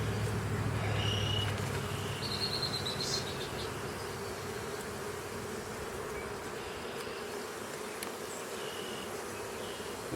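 Honey bees drone steadily during a hive inspection, a dense, continuous buzz close around the open hive, with no voices over it.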